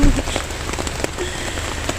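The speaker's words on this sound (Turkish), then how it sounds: "Yağmur, yağmur, yağmur." Steady rain falls outdoors in Bolu, Turkey, a dense continuous patter of drops hitting surfaces with scattered sharper splashes, close and even throughout with no voices.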